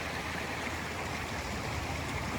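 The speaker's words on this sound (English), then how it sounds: "With lovely running water" A stream runs steadily beside a campsite on the coast. The water makes a continuous close rushing and babbling wash that stays even in loudness throughout, with no voices over it.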